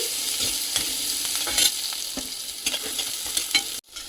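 Palak slice mixture with onions fries in a pan, a constant bright sizzle punctuated by a few scraping stirs and small pops, close and fairly loud, stopping abruptly at the end.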